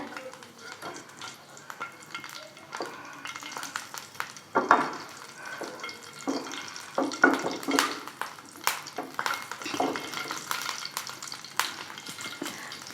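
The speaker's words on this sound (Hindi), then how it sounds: "तेल गरम हो चुका है, 1 तेज पत्ता डालेंगे और जीरा, थोड़ा सा तड़कने देंगे इसे" Bay leaf and cumin crackle in hot oil in a pan, with irregular close sizzling pops and stirring bursts that come and go.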